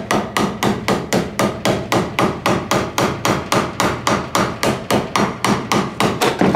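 Hammer striking a trailer wheel bearing race as it is driven into the hub, about two dozen sharp ringing metallic blows in a fast, even rhythm, loud and close with no talking.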